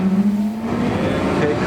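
A Porsche Carrera GT's engine is given a little gas, a close steady engine note with a dipping tone and rising rumble, pulled along by a learner driving stick.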